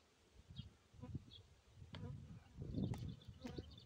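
Honeybees buzz faintly around an open hive while a frame is worked into foundationless comb, a low irregular droning hum with soft rustling and handling bumps close by.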